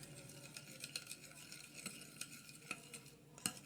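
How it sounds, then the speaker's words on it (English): Eggs being mixed with mayonnaise, heard as quiet, close scraping and tapping of a utensil in a bowl in an irregular rhythm, with no talking. "I'm gonna mix this. Mix this mayo one."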